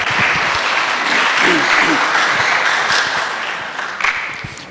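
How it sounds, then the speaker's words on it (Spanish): Loud, steady audience applause at a water security conference in central Mexico, welcoming a doctor to the lectern for a keynote lecture, sustained throughout with a few voices underneath. "Un aplauso, por favor"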